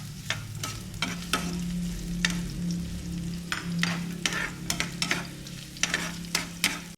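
Onion and garlic sauté in a pan for ginisang munggo, with a steady sizzle and a low hum under sharp, irregular clacks of stirring close by.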